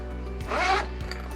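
One close zipper on a drone backpack pocket slides open in a short raspy pull, with a faint click before it and after it, over a low steady hum.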